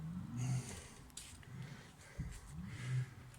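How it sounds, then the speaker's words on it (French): Soft, breathy whooshes of air pushed in and out of a piston on a wheel-carrier mechanism, rising and falling in a slow rhythm with a brief click between strokes; quiet and close. "on entend l'air qui rentre et qui sort"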